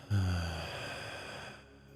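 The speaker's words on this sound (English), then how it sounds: "And exhale through the mouth" A long, audible exhale through the mouth during a breathwork exercise, starting with a breathy, voiced sigh and tapering slowly into quiet air over about a second and a half.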